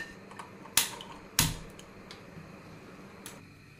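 A gas stove is switched on under a pressure cooker, giving two sharp, close clicks about half a second apart, then faint ticks in a quiet kitchen.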